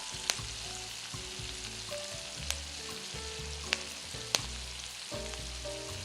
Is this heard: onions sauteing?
yes